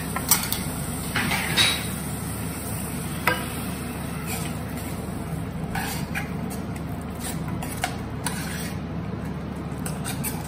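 Mint and coriander paste hits a hot pan for a kala chana gravy with a steady low sizzle. Scattered scraping stir clicks sound throughout, with no talk.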